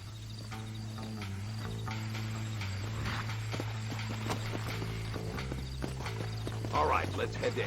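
Horse hooves clip-clop steadily in the Red Dead Redemption video game, a rhythmic clatter that runs the whole way through over a low droning score, with a voice talking over it at moments.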